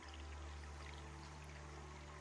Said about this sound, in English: I came across another very pretty spot with a trickling stream